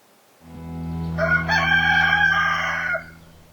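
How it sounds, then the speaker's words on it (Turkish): A rooster crows once, a loud, drawn-out cock-a-doodle-doo lasting a few seconds, close by and alone. "Ela ve Atay'ı uyandıran horoz nasıl bir ses çıkardı?"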